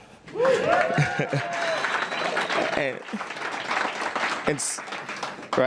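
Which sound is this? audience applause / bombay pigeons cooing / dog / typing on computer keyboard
audience applause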